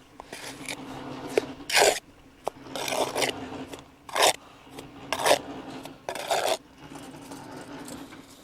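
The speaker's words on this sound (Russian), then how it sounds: "И затем забиваю вот этот вертикальный шов, чтобы швы были полные." A trowel packs mortar into a vertical joint of a ceramic brick wall, giving about six short, rasping scrapes at uneven intervals, close up, with quiet gaps between strokes.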